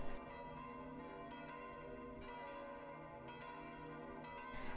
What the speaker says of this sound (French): la cloche du beffroi municipal, qui était restée muette depuis 1914, a sonné